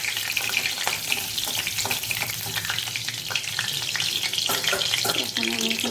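Cinnamon and cardamom tempering fries in hot oil for a chana and taro curry, a dense continuous hiss and crackle close by with brief clinks of a spoon against the pan.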